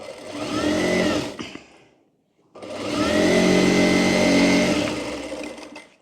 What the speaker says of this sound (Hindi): अब अस्तर वाले पार्ट में पूरे में हम सिलाई लगा लेंगे।